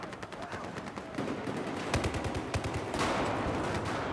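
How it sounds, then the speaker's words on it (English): Rapid gunfire rattles in a Battlefield 4 team deathmatch on Operation Locker, with loud, dense bursts and a shotgun among the shots, continuous for a few seconds. "I suspect this shotgun is pretty short range."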